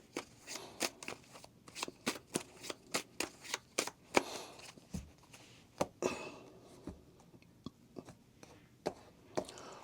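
Tarot cards being shuffled close up, a long run of crisp papery flicks and riffles in an irregular rhythm, quiet and without talk.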